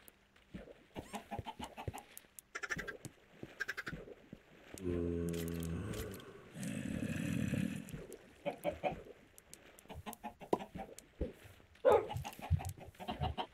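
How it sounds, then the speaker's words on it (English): Chickens cluck and squawk in bursts within Minecraft, close and fairly loud, mixed with clattering game sounds and a couple of longer droning tones between them. "Chicken."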